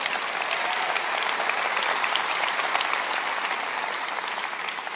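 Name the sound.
church congregation applause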